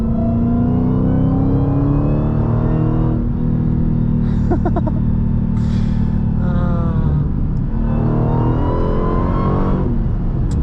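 A Dodge Challenger SRT Demon with an 8-speed transmission roars in a loud, steady cabin-heard drone, with revs climbing and dropping across several gear changes.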